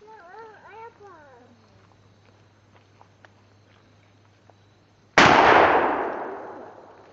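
One loud, close shotgun blast fired at a truck bed liner, with a sharp report and a long echo tail, coming after a brief spoken exchange and some faint handling clicks.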